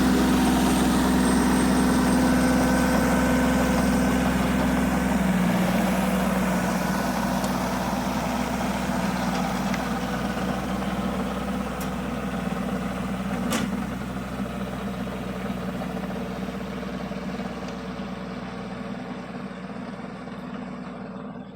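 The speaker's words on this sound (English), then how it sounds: "Man, that tiller ain't never run so good." A tiller engine runs steadily close by on a dry rural homestead, a continuous low chugging idle that slowly fades somewhat toward the end.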